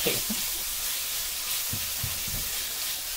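Fatty pork browning in a pan for homemade baked beans, a steady low sizzle and hiss with a few soft clunks from the pan at moderate distance.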